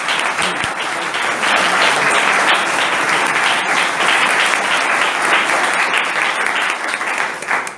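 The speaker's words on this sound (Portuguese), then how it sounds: "Décio, merece uma salva de palmas do Décio." Loud, dense applause from an audience at a lecture event fills the full eight seconds with a steady, sustained roar of many hands and no voices above it.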